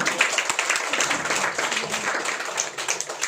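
A church congregation claps in a steady, moderately loud round of applause, with close, crisp individual claps blending into a continuous patter over about three seconds.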